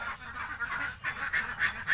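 Ducks on a small Thai egg-laying duck farm call from inside their pen, a run of repeated nasal honking quacks coming in quick bursts at steady, moderate loudness with no voices.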